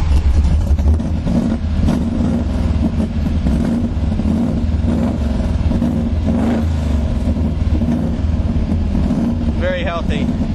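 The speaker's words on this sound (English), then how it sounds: "Put the emergency brake on and start this thing up." A 1971 Baldwin Motion Vega GT with a DZ 302 V8 and Smokey Yunick intake runs at a steady, loud, rumbling idle up close, with someone speaking briefly over it.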